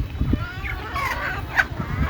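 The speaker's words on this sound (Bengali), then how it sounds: "দেশি মুরগি" Desi chickens cluck nearby in a few short, soft bursts, with low background rustling and faint farmyard noise.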